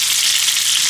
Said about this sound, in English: Watch it sizzle.